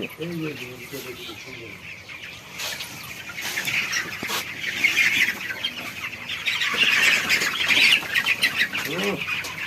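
Broiler chickens, 21 days old, cluck and squawk close by in an irregular, busy chorus, with a voice speaking now and then among them.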